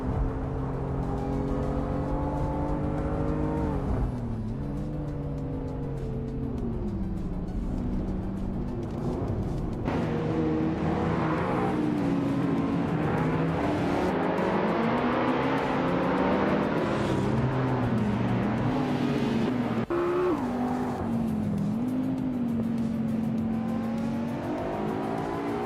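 Race cars in a video game roar through a continuous, loud chase, engines rising and falling in pitch as they accelerate and shift, with several cars overlapping throughout.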